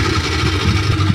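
A speedboat engine runs steadily at close range, a continuous low mid-frequency drone on a river near newly risen char islands by the India–Bangladesh border, with no voices.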